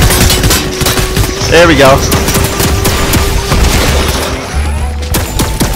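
A briefcase turret in Fortnite fires a loud, continuous stream of rapid automatic shots while players talk over it.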